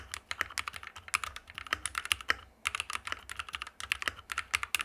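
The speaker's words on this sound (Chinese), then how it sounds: "打字的反馈还是可以的，有一点空腔音，但不会过于明显" Fast, steady typing on an AL87 mechanical keyboard with an aluminium case, CRV switches and foam fill, heard alone and close as crisp, slightly hollow clacks with a brief pause in the middle.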